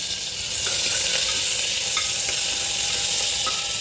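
Chili paste hits hot oil already holding cumin and mustard seeds and sizzles loudly and steadily, with faint stirring scrapes over the continuous hiss in a village-style vegetable curry.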